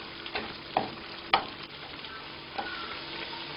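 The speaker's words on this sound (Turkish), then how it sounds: "doğradığımız patlıcanları tereyağda alt üst edip kavuruyoruz" Steady sizzling of chopped eggplant stir-frying in butter in a pan, with a few soft clicks and stirring scrapes scattered through; no voices.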